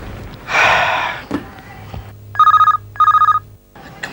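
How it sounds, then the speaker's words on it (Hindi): A telephone rings in a home in a Hindi courtroom drama: two bursts of a trilling electronic bell, each about a third of a second, follow a breathy gasp and soft movement sounds, loud and close. "फोन उठाओ यार।"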